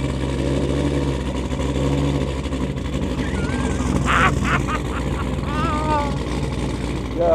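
An 850 hp car engine starts and settles into a loud, deep rumbling idle close by. People talk over it.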